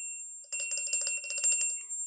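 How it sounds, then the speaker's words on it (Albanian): A door-opening alarm chime rings in quick electronic pulses, a bright bell-like tone repeating rapidly for about a second and a half after a short quiet lead-in, close and clear with no talking. "në momentin që lëviz dera, do bëhet kjo zilja që neve"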